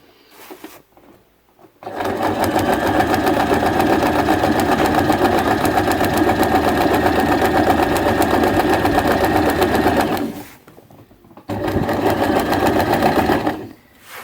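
A sewing machine backstitches a sleeping bag, its motor humming loud and continuous for about eight seconds, pausing briefly, then running again in a second steady burst.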